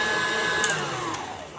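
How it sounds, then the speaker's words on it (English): A stand mixer runs steadily while whipping royal icing for a gingerbread house, a continuous motor whir with a slowly falling whine, close and fairly loud throughout. "I'm also going to be using my stand mixer for this"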